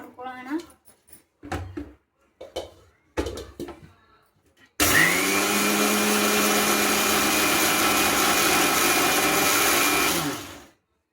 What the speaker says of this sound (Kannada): ಬನ್ನಿ ಇದನ್ನು ಮಿಕ್ಸಿ ಮಾಡ್ಕೊಳ್ಳೋಣ.